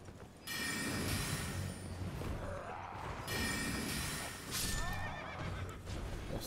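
In the Elden Ring video game, a horse whinnies loudly several times in quick succession, with shrill, wavering neighs rising over a low rumble and some clattering movement.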